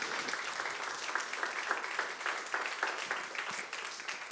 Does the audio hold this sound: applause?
yes